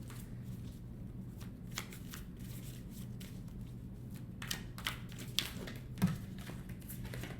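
Tarot cards being shuffled by hand for an advice card: a steady soft riffling patter with a few sharper card slaps near the end, close and quiet, with no talking.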